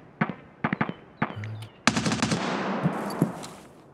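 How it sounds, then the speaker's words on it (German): Gunfire in the video game Escape From Tarkov on the Streets of Tarkov map: several sharp single shots, then a dense automatic burst with a rolling echoing tail, fairly loud and with no talk over it. "Da vorne sind aber die Schüsse."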